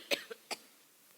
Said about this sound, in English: Give me a minute, I'm going to cough.